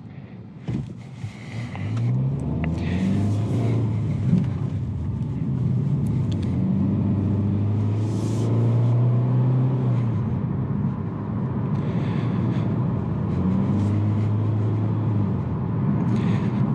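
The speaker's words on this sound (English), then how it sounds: "So you can tell right off the bat it's a CVT, so it's going to have some RPMs, some strange RPMs" Engine of a 2020 Hyundai Venue with a CVT transmission drones steadily inside the cabin, its pitch sliding up and down in long smooth sweeps as it accelerates, with a constant road rumble underneath.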